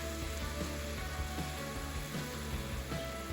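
Butter sizzles in a hot pan while chicken piccata is cooking, giving a steady, even hiss and crackle that carries on without talk.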